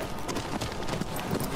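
Horse hooves galloping in a video game: a quick, continuous clatter of clip-clop beats over a busy game background, close and fairly quiet.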